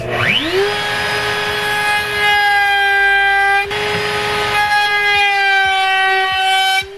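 A router fitted with a 1/8 inch round-over bit spins up to a high, steady whine with a rising pitch at the start, running loud and close while rounding over an ABS plastic edge, then cuts off abruptly.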